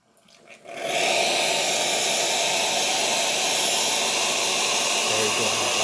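The hot water outlet of a freshly serviced VBM espresso machine opens after a quiet moment, then rushes and hisses loudly and steadily, close by.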